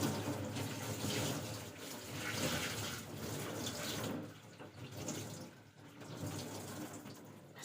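Tap water runs steadily into a sink while something small is rinsed under the stream, a continuous close splashing rush that swells and dips as the flow is interrupted by hands, with no talking.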